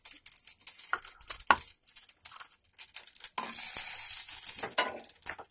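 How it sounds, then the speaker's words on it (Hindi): Cumin seeds drop into hot oil for a masala potato dish. A few scattered clicks and scrapes come first, then a close, steady hiss of sizzling rises for about a second and fades. "तो सबसे पहले मैं इसमें ये जीरा डालूंगी"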